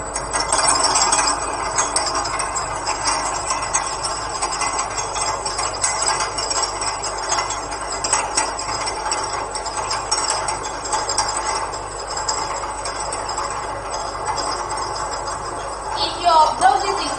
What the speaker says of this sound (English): Now we are starting the machine.